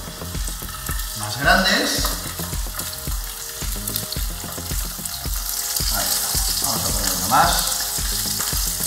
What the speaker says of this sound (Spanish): El aceite ya lo deberemos tener caliente, echamos la sal, repartimos bien el aceite por toda la sartén y ponemos las huevas